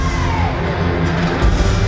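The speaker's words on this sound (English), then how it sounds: "A very vocal crowd for the local team." A vocal crowd at a bantam AA hockey final cheers loudly for the local team, a dense wash of shouting and whoops that swells briefly near the end.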